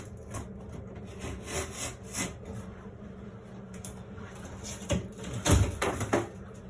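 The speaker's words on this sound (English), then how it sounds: "I'm going to make a mark with my knife where I have to cut it out." Utility knife sawing a hole through sheetrock for a ceiling fan install, with repeated rough scraping strokes in an uneven rhythm that grow louder toward the end, close and without talk.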